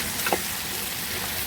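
Bottle gourd peels stir-fried with tomato and green chilies in a pan, a continuous even hiss of sizzling with a faint scrape early on, close and moderately loud.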